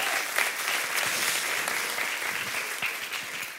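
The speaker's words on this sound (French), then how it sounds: "Est-ce qu'on peut applaudir la gloire de Dieu quand même ?" Warm, dense applause from a large church congregation in Paris, a continuous wash of many hands clapping at a steady level with no talk over it.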